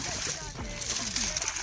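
Irrigation water released into a farm field splashes and sloshes steadily close by, a continuous rushing churn with a voice talking over it.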